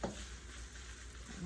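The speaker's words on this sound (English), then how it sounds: "When you're cooking that chicken, all you want to do is just brown it." Chicken browning in a hot pan for curry fried rice gives a soft, steady sizzle that carries on evenly throughout without any talking.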